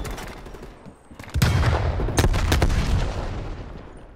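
Gunfire from a beam weapon in a video game, a strong burst starting after a quiet opening and continuing as sustained loud blasts with sharp peaks, close and dense, no talking.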